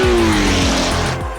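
A Porsche air-cooled flat-eight in an open-top prototype race car roars loudly and close, its harmonics dropping as the engine note falls and rises again, with no voices over it.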